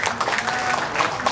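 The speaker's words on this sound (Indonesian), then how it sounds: "Tepuk tangan dulu." A crowd at an Indonesian political campaign gathering in a hotel in Jakarta breaks into brief, loud, close applause, a dense mass of clapping with some voices mixed in.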